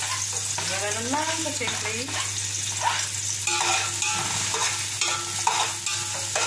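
Steady sizzling of garlic frying in a pan with stirring scrapes, while someone talks briefly over it.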